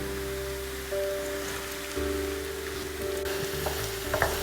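Ginger and green chillies fry in coconut oil with a steady crackling sizzle heard close up. A low constant hum runs beneath it, and a few sharper pops or stirring clicks come near the end.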